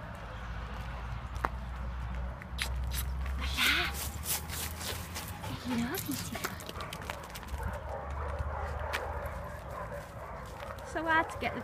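Several dogs bark and yip at a dog shelter in Benidorm, amid continuous background noise and a person talking over the animals.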